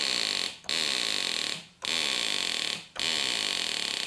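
Trumpet patch on a Korg X-911 guitar synthesizer sounding at one fixed pitch despite different notes being played: three sustained buzzy tones separated by short gaps, loud and close with no talking.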